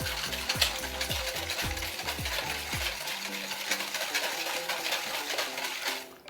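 A whisk beats batter in a bowl, a steady fast scraping and clinking that stays close and loud, with a rhythmic thumping over the first few seconds.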